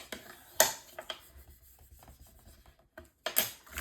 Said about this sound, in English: use my bone folder to burnish this so that it's nice and tight and crisp up against that edge